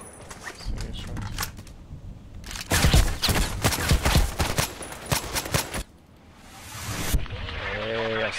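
Sniper fire from an SVU-AS rifle in the Contract Wars shooter, a dense run of sharp loud cracks in the middle giving way to a quieter stretch and then a few more scattered reports.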